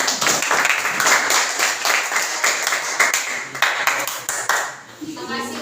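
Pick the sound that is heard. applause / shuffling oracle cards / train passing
applause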